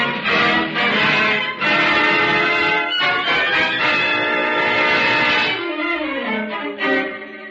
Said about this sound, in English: Sure is a lot of fog over the harbor this morning. Pretty, all them foghorns.